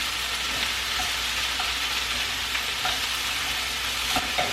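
Vegetables saute in a hot pan with a loud, continuous sizzle and faint clicks as they are tossed and stirred.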